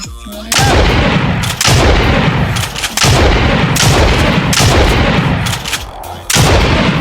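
Loud, booming gunfire from weapons in a Minecraft gun mod, a video game, with repeated heavy shots roughly every second over a dense, continuous roar, and no talking.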